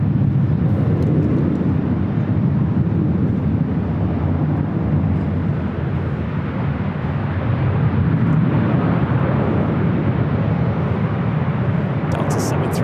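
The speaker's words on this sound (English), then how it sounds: "Delta 737 rolling down to 24 left" A Delta Boeing 737 jet rolls for takeoff on runway 24 Left at LAX with a steady, broad engine roar and rumble that holds constant throughout, heavy and close, with wind buffeting.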